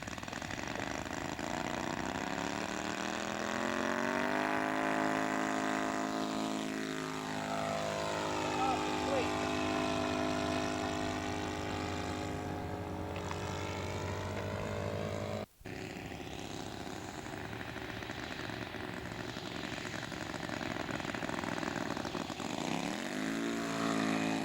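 A scale model fixed-wing aircraft with a YS 124 four-stroke engine takes off at Rocket City Airport in Huntsville, its propeller engine droning and shifting pitch as it climbs and passes by, with someone talking over it.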